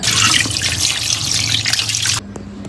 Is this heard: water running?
yes